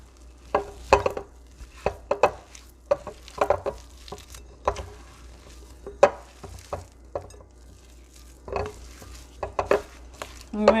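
Trout stuffing is mixed by hand in a bowl, making a series of soft, wet squelching and slapping bursts in an irregular rhythm, close and moderately loud.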